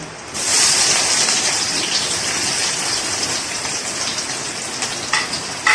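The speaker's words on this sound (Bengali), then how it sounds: "তেল আমার গরম হয়ে গেছে, এবারে চিনিটা দিয়ে দিচ্ছি, পেঁয়াজগুলো দিয়ে দেবো" Sugar and then onions drop into hot oil, setting off a sudden loud, steady sizzle that carries on as a dense hiss to the end, with a few sharper crackles and no voices.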